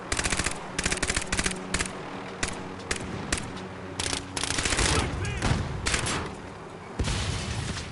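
Call of Duty multiplayer gunfire: rapid automatic bursts crackle in repeated volleys, loud and close, with brief gaps between strings of shots and a few heavier booming impacts mixed in.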